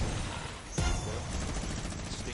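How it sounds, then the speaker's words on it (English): A Fortnite minigun fires in a dense, continuous burst, with a sharp crack near the start, blended with other game noise. "still riding the minigun"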